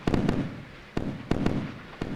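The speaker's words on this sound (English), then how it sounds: "It's a lot of cannon fire." Cannon fire from naval warships in a battle video game booms in sharp repeated blasts, several shots in quick clusters, loud and close with rumbling tails between them.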